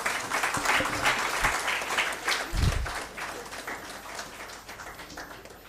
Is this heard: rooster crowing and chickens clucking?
no